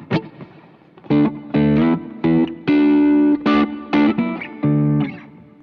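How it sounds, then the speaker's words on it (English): Electric guitar notes and chords played through a reverb pedal set to a roomy hall sound with a long decay, sounding in separate bursts with pauses between them and the tails ringing out after each phrase. "It's kind of a room, but it's more of a hall sound."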